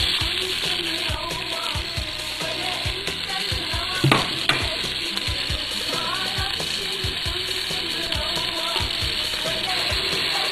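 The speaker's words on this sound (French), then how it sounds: "Je vais faire revenir mes petits oignons." Small onions frying in a shallow layer of neutral oil in a deep pot, a constant dense sizzle with repeated utensil taps and stirring clatter, close and even in loudness.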